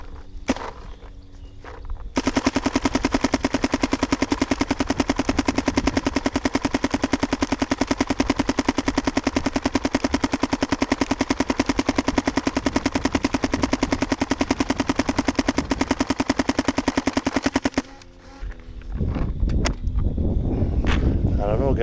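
A paintball marker fed by a CRBN DRV loader fitted with a Dye MXR update kit fires a long, rapid, even stream of shots for about fifteen seconds outdoors, preceded and followed by quieter handling noise.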